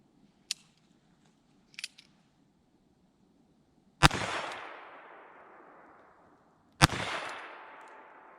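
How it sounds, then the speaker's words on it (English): Two loud sharp reports from a Ruger Wrangler .22lr revolver, each with a ringing decay lasting a couple of seconds, preceded by faint clicks of handling in a quiet outdoor setting. "it's part of the fun shooting these old style guns."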